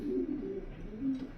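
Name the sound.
pintail racing pigeon cooing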